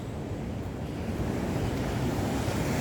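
Sea waves wash steadily onto the shore at Tanpail beach in Tigbauan, Iloilo, a continuous full roar of surf mixed with wind buffeting the microphone, loud and close with no pause.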